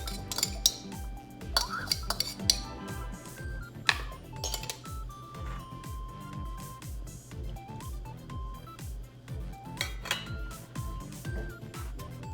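Utensils clink and scrape against dishes as cooked crab is moved into a bowl, a steady run of light metallic taps and knocks at moderate distance with no talking.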